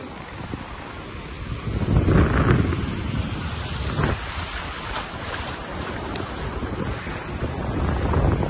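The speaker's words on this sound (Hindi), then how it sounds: "हवा वगैरह चल रही है, और लहरें स्पीड से आ गई" Sea waves roll onto the shore near Karachi at evening while strong wind buffets the microphone, a continuous loud rushing roar with surging swells and no talking.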